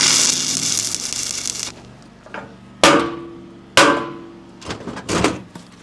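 Hammer strikes on hot-tacked steel on a gooseneck trailer ring out as two loud, sharp metallic blows followed by a couple of lighter taps, after a stretch of hissing welding noise.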